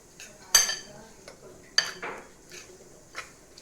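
Chicken tikka marinade with vinegar is stirred in a bowl, giving a few sharp spoon-on-dish clinks and soft scraping at close range, spaced irregularly and fairly quiet.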